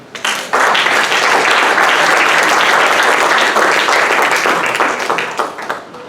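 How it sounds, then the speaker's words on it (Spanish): Applause for Antonio, a devoted church helper, from a congregation at a religious gathering, bursting in suddenly and holding steady as dense, close clapping for several seconds before thinning out at the end. "denle un aplauso al Antonio"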